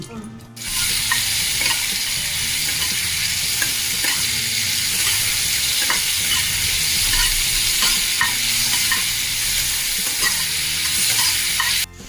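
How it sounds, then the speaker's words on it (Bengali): Mustard seeds and a dried chilli frying in hot oil for mango chutney, giving a dense, steady sizzle that runs unbroken for about eleven seconds with no talk over it. "তেলটা গরম হয়ে গেছে, একটু সর্ষে দিয়ে দিলাম আর একটা শুকনো লঙ্কা।"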